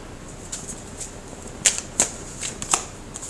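Tarot cards shuffled and drawn with a series of soft, evenly spaced flicks and a few sharper snaps near the end, close up and without speech.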